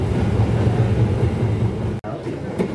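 The Sembrani passenger train runs on rails through Indonesia, giving a loud continuous interior rumble with steady low-frequency roar and a brief dropout near the end.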